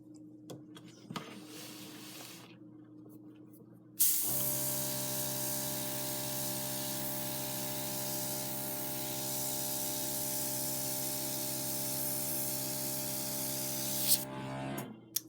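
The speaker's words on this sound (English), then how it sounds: "I'll try not to talk when the airbrush is going." An airbrush blows air over alcohol ink. After a quiet start, a loud, steady hiss switches on and runs for about ten seconds, then cuts off abruptly.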